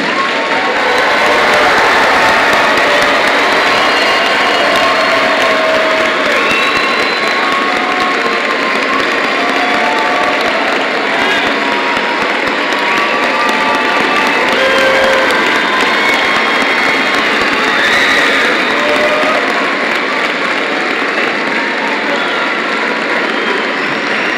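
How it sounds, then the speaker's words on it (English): Sustained, loud applause from a large crowd at a graduation ceremony, a dense wash of clapping that holds steady for the whole stretch. "please join with me as we honor all these graduates with a well-deserved round of applause."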